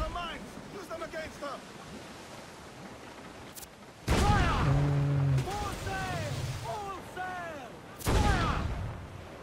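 Ship cannons boom in the Assassin's Creed Black Flag naval battle: heavy broadband blasts near 4 and 8 seconds over constant sea and ship noise, with crew shouts and music under game talk.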